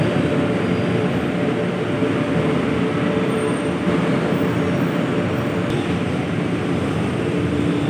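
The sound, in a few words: train departing from a station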